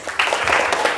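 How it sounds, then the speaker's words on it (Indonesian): A class applauds a student group after their presentation, a brief burst of many hands clapping together, fairly close and steady for about a second. "Tepuk tangan dulu untuk kelompok 1."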